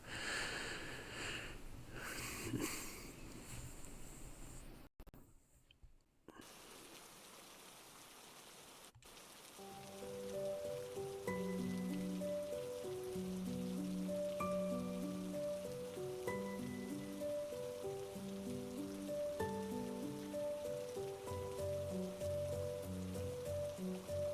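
Steady rain outside a cave in the game Who is Abby?, starting with a brief hiss and dropout before a calm, even downpour settles in under soft melodic tones.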